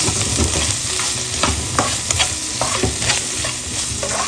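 Chili garlic sizzles loudly as it is sautéed in a pan, with a busy frying hiss and several sharp scrapes and clatters of a spatula stirring close by, and no voices.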